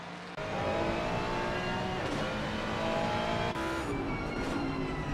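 A Ford Mustang GT race car at the Barcelona circuit in the racing game Assetto Corsa Competizione, engine roaring at high revs close by, with gear shifts and a steady loud drone as other cars run nearby.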